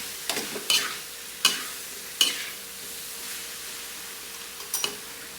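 Spicy chicken adobo afritada being stirred in a frying pan, with a steady low sizzle broken by several sharp scraping stirs spaced a second or so apart, close by and with no talking.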